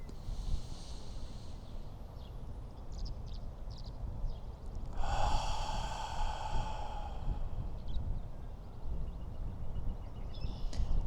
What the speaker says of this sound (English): Another breath.